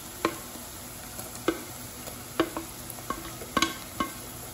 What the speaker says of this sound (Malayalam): ഇനി നമുക്ക് ഇതിലേക്ക് തക്കാളി ചേർത്ത് കൊടുക്കാം.